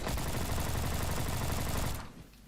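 Rapid automatic gunfire in the Roblox shooter Bad Business, a loud continuous burst of shots lasting about two seconds and then cutting off abruptly to near silence.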